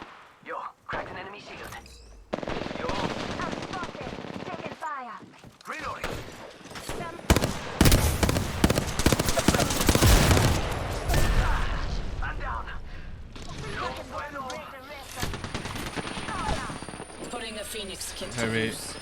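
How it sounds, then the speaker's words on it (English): Apex Legends firefight: bursts of rapid automatic gunfire and single shots crackling through the middle stretch, loud and close, with a player talking over parts of it. "They're shooting at me."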